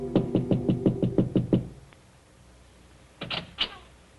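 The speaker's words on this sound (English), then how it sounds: "there is a soft knock at his door" A soft knock at an apartment door in an old radio drama plays as a quick run of about eight evenly spaced raps, followed after a pause by a few fainter knocks or door sounds.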